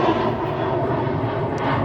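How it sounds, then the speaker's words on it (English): Fixed-wing airplane passing overhead, a loud steady broadband engine roar that fills the whole moment with no talk. "Well, the airplane passed by."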